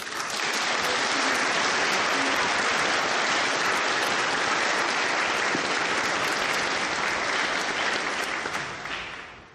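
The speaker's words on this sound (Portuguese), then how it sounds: "Salva de palmas as catequistas que acompanharam os alunos." A church congregation gives a long, dense round of applause for the catechists, holding steady and loud throughout before tapering off at the very end.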